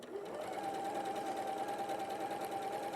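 Sewing machine running steadily as it stitches the back seam of a dress, stopping short of the back slit, with a continuous close whirring hum and no talk.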